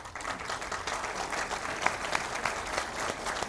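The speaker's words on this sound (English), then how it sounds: "give them a round of applause" An audience applauds steadily as members of a nonprofit's board stand at an annual meeting, a dense, even wash of clapping from the room with no talk.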